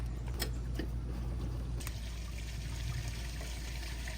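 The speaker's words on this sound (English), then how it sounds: "So I'm gonna go ahead and pull the gray now just to make sure that everything is flowing." Gray water from the holding tank of a Grand Design Imagine travel trailer drains through a sewer hose at an RV site, a steady low rushing trickle with a few brief splashy gurgles early on, continuous and fairly close.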